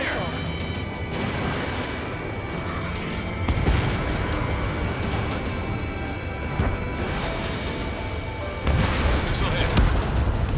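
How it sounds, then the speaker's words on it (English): Missile explosions in the air-combat video game Ace Combat 7, a few heavy booms and crashing blasts spread through a dense roar of jets and battle noise, loud, with voices talking over it. "Missile hit."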